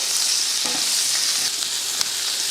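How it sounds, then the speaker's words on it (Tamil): Onion and four garlic cloves sizzling steadily in hot oil in a pan, a loud continuous hiss with a few soft stirring scrapes; no talking. "இப்போ அதே எண்ணெயில் ஒரு வெங்காயம், ஒரு 4 பல் பூண்டு இதை கொஞ்சம் வதக்கிடுவோம்"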